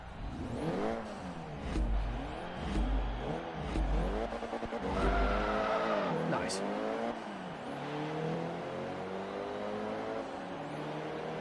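A Vauxhall car engine revs and accelerates during a Forza Motorsport 3 drag race, rising and falling pitch sweeps as gears change, steady and fairly loud, with a voice talking over it.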